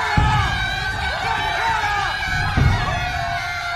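A large crowd of spectators roars and cheers after a duel victory at a tournament, loud mixed shouting and whoops that swell and stay continuous.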